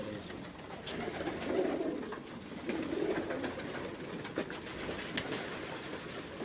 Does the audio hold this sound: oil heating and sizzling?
no